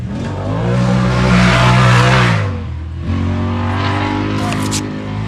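Off-road race car engine at a desert race, revving loud and close for a few seconds, then dropping and carrying on at a steady throttle, with a faint higher tone near the end.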